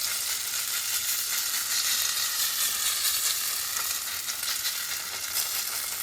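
Mashed potato frying in sunflower oil for an Ekadashi dish, giving a loud, continuous sizzle that holds steady from start to finish with no voices.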